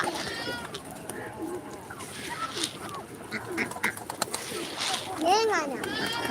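Pigeons coo and flutter nearby, with a duck-like quack and people talking over the birds.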